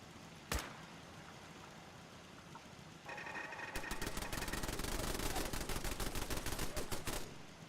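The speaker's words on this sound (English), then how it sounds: "these turrets will wipe them out, which is really funny" Automated turrets in Fallout 4 open fire on enemies, a single sharp shot followed after a pause by a long, loud, rapid burst of continuous automatic gunfire lasting several seconds.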